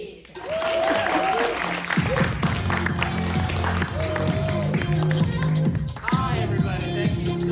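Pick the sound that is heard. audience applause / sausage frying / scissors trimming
audience applause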